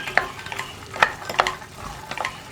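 A spoon stirs ginger garlic paste sautéing in a pan during green peas stew preparation, giving a few sharp scraping clicks over a soft sizzle, close up.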